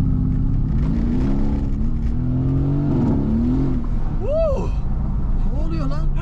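A Mercedes car accelerates hard, its engine roaring loud and close as the pitch climbs over several seconds, while people talk and shout excitedly inside the car.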